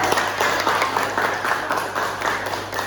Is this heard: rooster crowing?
no